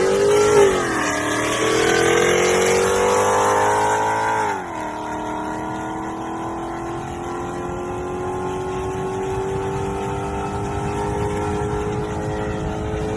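A powerful 470-horsepower 5.4 or 5.5 litre V8 car engine revs up and down, then settles into a deep, steady rumble as the vehicle drives on, fairly close and loud.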